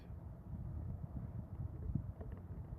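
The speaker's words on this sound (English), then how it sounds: "so you may be picking up on the sound of the wind" Wind buffets a phone microphone with a steady low rumble that rises and falls in gusts, with no voices.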